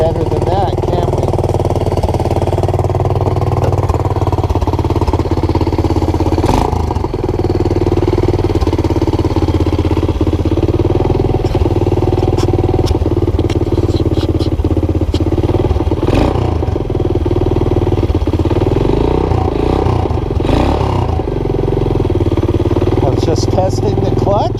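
A Honda TRX200SX ATV engine runs steadily while its clutch is tested, a loud continuous clattery idle with occasional revs and knocks, close up and without speech.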